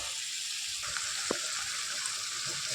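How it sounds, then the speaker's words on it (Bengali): Chicken cooked down slowly in oil in a pan, giving a steady, even sizzling hiss throughout, with a couple of faint knocks and no talking. "চিকেনটা কষা হয়ে গেছে, দেখুন তেল বেরিয়েছে কত সুন্দর"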